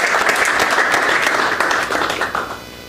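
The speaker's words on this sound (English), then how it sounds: "Applause." Sustained audience applause fills the room after a talk on AKS monitoring and FinOps, steady dense clapping that thins and fades toward the end.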